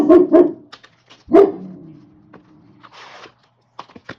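Two sharp dog barks up close, then a pause and another loud bark, followed by quieter rustling and a few faint clicks.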